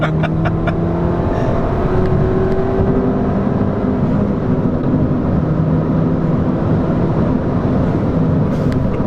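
A Ford Fiesta ST with a Stage 3 tune accelerates hard, a loud continuous engine drone and road roar heard from close by without talking.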